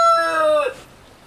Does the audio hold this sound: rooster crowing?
yes